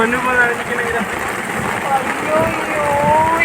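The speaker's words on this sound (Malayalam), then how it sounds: "നിങ്ങൾ മഴയുടെ സൗണ്ട് കേൾക്കുന്നുണ്ടോ?" Heavy rain falls with a steady, fairly loud hiss, and people talk over the downpour throughout.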